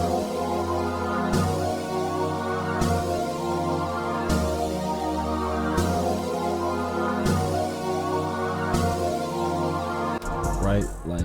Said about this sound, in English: this like pad from Expand, and I just copied the same chords over from the first one, and it sounds like this